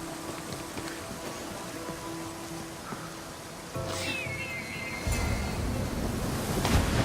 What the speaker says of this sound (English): This is the waterfall.